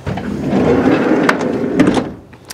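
A vehicle's sliding side door rolls open with a rumbling slide and a few sharp clicks and knocks from the latch and track, close and loud, then fades.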